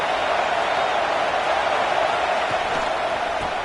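Steady roar of a stadium crowd in the NCAA College Football 26 video game, a dense unbroken wash of noise holding level throughout.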